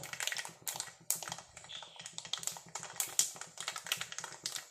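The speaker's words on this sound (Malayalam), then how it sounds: "കടുക് നല്ല പോലെ പൊട്ടണം ഒച്ചക്കാവോ" Mustard seeds and fenugreek pop in hot sesame oil in a pan for pickle-making: dense, irregular crackling with quick close snaps and taps, steady throughout, with no voices.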